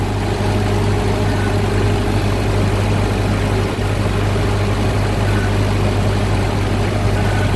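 A 1945 Ford 2N loader tractor engine runs at a steady idle, a loud, unbroken low drone with constant hum close by, no talking over it.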